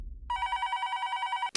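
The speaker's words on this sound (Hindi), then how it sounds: "इतनी रात किसका फोन?" A telephone bell rings late at night in a quiet home, one sustained bright trilling ring that starts abruptly and cuts off, clear and close with nothing else over it.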